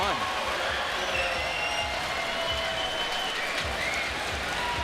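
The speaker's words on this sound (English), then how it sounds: "Caio Notaro in the crowd cheering him on" Crowd cheering and applauding at a 2024 SLS Championship Tour skateboarding contest, a dense continuous roar of clapping and shouting with occasional sharp board impacts beneath it.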